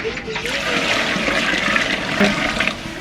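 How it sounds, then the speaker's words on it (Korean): Water gushes into a pot being filled with four liters for red bean porridge, a loud, steady rushing pour lasting throughout. "4리터 물은 지금 4리터 들어갔다"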